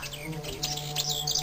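Several birds chirp and tweet in quick bright bursts over a faint steady background hum, with no talking.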